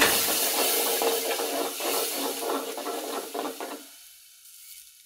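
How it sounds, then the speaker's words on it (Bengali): Chili powder, salt and spices sizzle and fry in a pan while being stirred, a steady close hiss with scraping strokes that fades toward the end. "আমি একটু নেড়ে দিব।"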